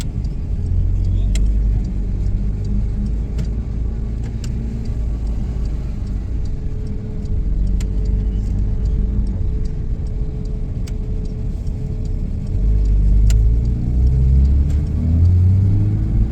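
A Porsche GT3 sports car engine drones steadily while driving, a loud continuous rumble with brief swells of revving throughout, heard from inside the car.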